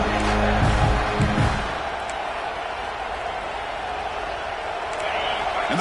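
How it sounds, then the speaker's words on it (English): Football stadium crowd at a Texas vs Washington game, a broad roar of cheering that swells loud at the start and holds as a steady wash of crowd noise, with a commentator talking over it. "And the crowd coming to life here"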